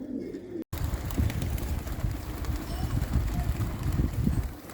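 A flock of racing pigeons released from a Delhi rooftop bursts into loud, continuous wing flapping and cooing, a dense rushing flutter close by that carries on throughout.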